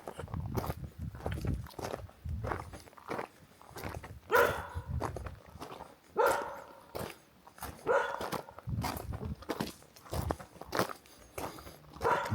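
Sentry dogs along a rural mountain road in Kentucky bark in a string of sharp, repeated bursts, fairly close, over the rumble of a vehicle and crunching footsteps.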